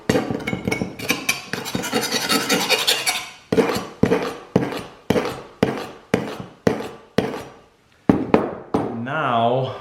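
A kitchen knife blade is scraped hard against a rough surface to dull its edge, making a rapid burst of rasping strokes followed by a slower series of distinct, rhythmic scrapes. A voice speaks over part of it.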